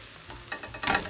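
Vegetable pancake frying in plenty of oil, a short burst of crackling sizzle with light scraping that swells louder near the end, close up.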